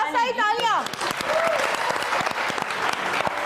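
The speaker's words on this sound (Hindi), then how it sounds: "आगे भी तीनों के लिए बहुत सारी तालियां" A studio audience on a TV entertainment show applauds three contestants, a dense round of clapping that follows a host's voice and carries on strongly to the end.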